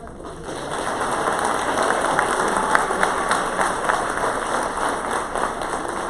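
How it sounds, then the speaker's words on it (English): Steady applause from an audience at a mid-year graduation ceremony, a dense even wash of clapping that holds at a constant level throughout. "Another round of applause."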